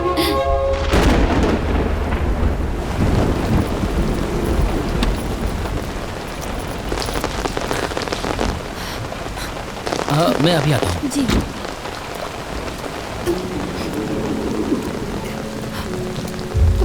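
Heavy rain pours steadily while a loud thunder crash rolls early on, and a man and someone briefly speak over the downpour.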